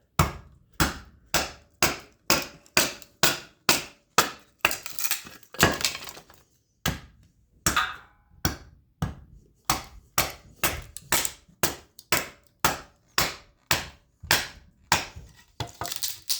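Axe repeatedly splitting firewood for a wood stove, sharp woody cracks landing in a steady rhythm of about two strikes per second, close and loud, with short breaks between runs.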